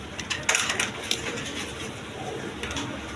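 A pair of pigeons, a female exhibition bird and a male kagoji, in a coop with a newly hatched chick, giving soft close cooing and rustling with a few brighter flutters and scratches.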